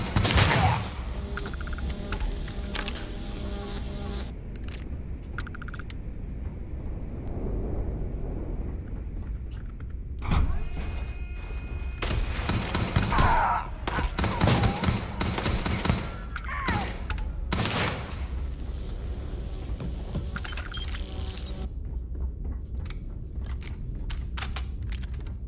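Repeated bursts of heavy gunfire from a Starfield firefight, several loud volleys separated by quieter stretches, with thuds and impacts between the shots.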